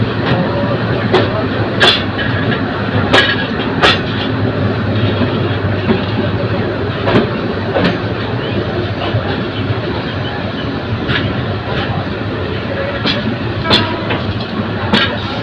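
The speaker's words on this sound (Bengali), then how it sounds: "কিশোরগঞ্জ এক্সপ্রেস ট্রেনটি ঢাকা কমলাপুর রেল স্টেশন থেকে দশটা ছেচল্লিশ মিনিটে ছেড়ে যাচ্ছে" The Kishorganj Express pulls out of Kamalapur railway station in Dhaka and rounds a curve, a loud steady rumble of carriages with recurring wheel clacks and sharp rail clicks, while voices murmur faintly underneath.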